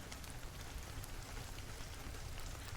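Steady, soft rain patters continuously on a surface, an even hiss of drops with no voices or other sounds over it.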